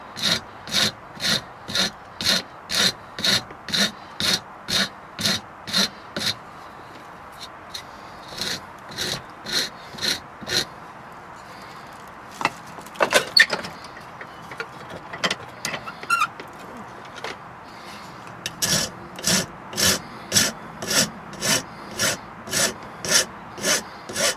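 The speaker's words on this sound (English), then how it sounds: "I'm going to put the limb in with a coarse rasp." A coarse rasp files a wooden limb for a Bhutanese-style bow in steady, close rhythmic strokes, about three per second, with a pause and some handling clatter midway before the strokes resume.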